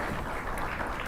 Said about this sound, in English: I think we can hear some applause in the background, in the playing arena in Singapore